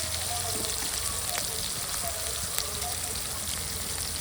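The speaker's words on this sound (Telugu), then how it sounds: "ఇందులోకి సన్నగా కట్ చేసుకున్న ఆనియన్ కచ్చా పచ్చగా తీసుకొచ్చుకున్న వెల్లుల్లి రంగు వీటన్నిటిని పచ్చివాసన పోయేంత వరకు బోర్గా వేయించుకోవాలి" Thinly sliced onion and garlic fry in oil in a pan with a loud, dense, continuous sizzle and occasional faint clicks of a utensil.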